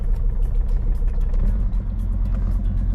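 A Jeep WJ with the 2.7 CRD diesel idles and revs in park with its transfer case in neutral, giving a steady, close, low engine rumble that swells slightly without sharp peaks.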